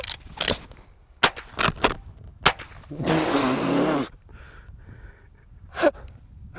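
Sharp rifle shots from a Chiappa LA322 western lever-action carabine ring out in an irregular series of about six cracks, loud and close, with a long gasping breath in the middle and a brief voice near the end.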